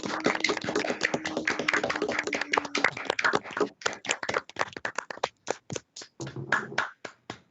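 Scattered applause from an online panel audience unmuting at a virtual honors thesis symposium, uneven overlapping claps that thin out into sparse individual claps toward the end, with no talking.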